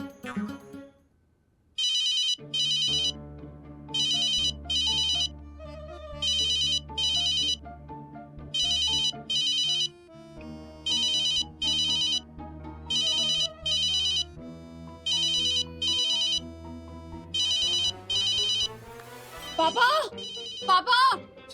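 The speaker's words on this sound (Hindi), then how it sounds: "ये रिंगटोन तो पापा की लग रही है।" A mobile phone ringtone plays a repeating melodic tune in regular bursts, fairly loud and close, over a low backing tone, with voices speaking at points.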